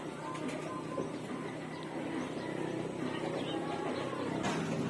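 Racing pigeons returning to their loft in Nueva Ecija coo softly amid a dense, busy background of ambient noise and faint voices, sustained throughout.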